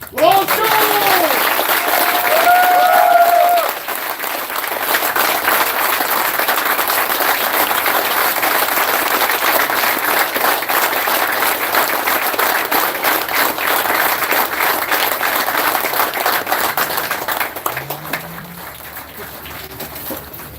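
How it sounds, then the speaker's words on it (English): An audience gives a round of applause for a Command Sergeant Major at a military gathering: loud, dense clapping that starts with a brief voice, holds steady for most of the stretch, then thins out near the end. "Would you please join me in a round of applause for Command Sergeant Major Baxter?"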